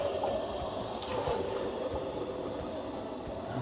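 Water runs steadily into calf feeding bottles, a continuous close rushing and filling sound with no break and nothing spoken over it.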